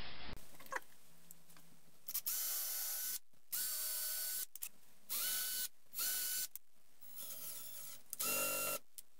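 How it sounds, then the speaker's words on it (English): Clamp ratcheting onto a wooden amp cabinet side piece on a table, several short bursts of sharp clicking mechanical ratchet sounds separated by brief pauses, close and clear. "I'm actually clamping it in place, including the table."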